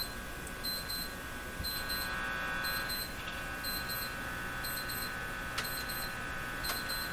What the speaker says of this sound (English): That's my coffee break reminder alarm going off.